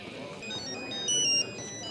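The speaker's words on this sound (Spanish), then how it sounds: "Teléfono, Meltem." A telephone rings in a Turkish drama dubbed into Spanish, a short electronic ringtone of bright repeated tones over a low background murmur.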